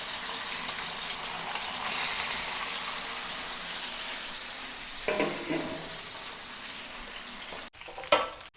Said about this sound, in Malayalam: അപ്പോൾ നമുക്ക് ഫിഷ് മോളിക്കുള്ള മീൻ വറുക്കാട്ടോ ആദ്യം